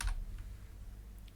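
Computer keyboard keys being typed in a quick short burst, close and fairly quiet over a low steady hum, with no voices.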